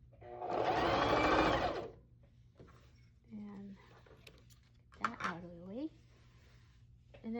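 A sewing machine stitches a fabric scrunchie in one short, loud burst, then quiet handling of the fabric and soft clicks follow.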